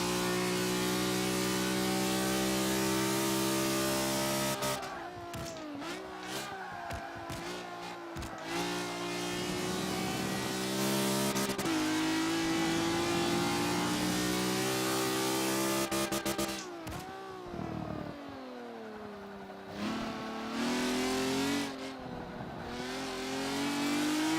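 A car engine revs hard and accelerates through the gears, rising in pitch, dropping sharply at each shift and climbing again, with a loud, close in-car sound and no talking.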